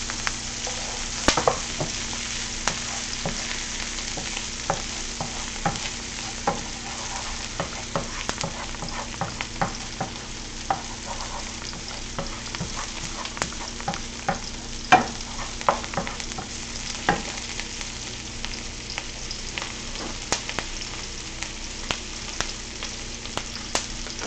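Chicken sizzles steadily in a frying pan while a utensil stirs it, adding soft scraping clicks over the continuous frying hiss; no one speaks.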